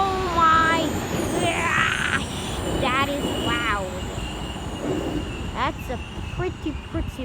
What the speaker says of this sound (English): pretty loud train